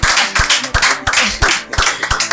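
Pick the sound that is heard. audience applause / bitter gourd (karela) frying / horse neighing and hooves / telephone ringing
audience applause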